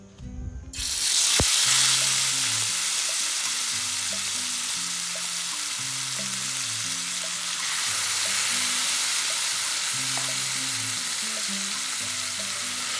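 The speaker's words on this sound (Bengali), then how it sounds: "তেল গরম হয়ে এলে তার মধ্যে ফোড়নের জন্য দিয়ে দিচ্ছি একটা তেজপাতা আর সাদা গোটা জিরে" Bay leaf and whole cumin seeds frying in hot mustard oil for a mutton curry, a loud, steady close-up sizzle that starts abruptly and crackles on with no voices.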